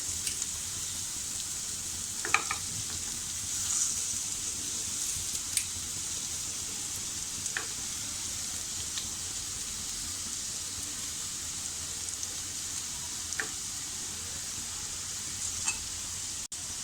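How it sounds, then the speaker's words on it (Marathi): Potatoes crushed by hand and frying in a pan for vada pav, a steady close sizzle with occasional soft stirring clicks and scrapes, and no voice. "आता यातच आपल्याला हे बटाटे असे हातानेच असे कुस्करून टाकायचे आहेत."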